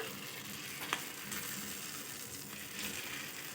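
Potato kurkure dough pieces fry in hot oil over a medium flame, giving a steady, soft, continuous sizzle with a small pop near the start and no voices.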